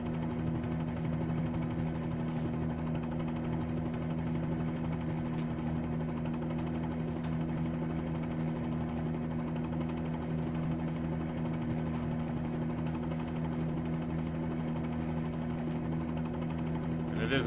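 A steady, droning Bell 47G helicopter engine in a flight simulator game hums without pause, with a low throbbing rotor tone and no clear change in pitch.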